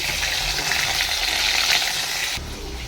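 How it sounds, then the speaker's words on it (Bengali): Bhola fish frying in hot oil, a loud, close, dense sizzle that holds steady and then drops off a little near the end. "কিছু ভোলা মাছ ভাজতে দিয়েছি"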